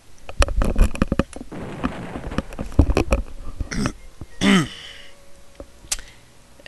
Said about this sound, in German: Entschuldigt, dass ich schon wieder hier mich wild räusper.